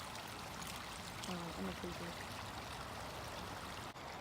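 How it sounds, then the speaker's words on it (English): Waterfall at Cascade Springs Nature Preserve, a steady broad rushing wash of falling water heard faintly in the background while a person speaks briefly over it. "Maybe this is the waterfall"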